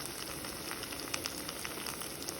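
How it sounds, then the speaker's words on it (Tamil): Yam pieces frying in plenty of oil for a crispy yam curry, a constant close sizzle with scattered crackling pops, steady and unaccompanied. "திருப்பி போடணும் பாருங்கள் நல்லா ஃப்ரை ஆகி வரும் பாருங்கள்"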